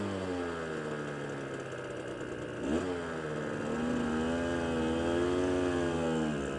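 Motorcycle engine idling with a low steady drone, then rising in pitch and load as the bike pulls away on a hill start while the rider holds the rear brake, heard close and continuous without talk.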